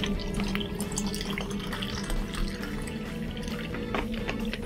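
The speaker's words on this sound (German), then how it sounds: "ich gieße mir nochmal schnell was ein" A drink poured into a glass, a steady trickling, gurgling fill lasting several seconds, fairly close and moderately quiet, with no talking.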